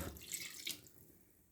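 Water splashes and pours briefly into a pot of chicken soup, a short gush that fades quickly into a quiet trickle.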